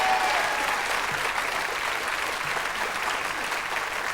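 A studio audience at a 1980 BBC2 quiz-show sketch breaks into loud, sustained applause welcoming the first contestants, a dense even clapping that fills the room without letup.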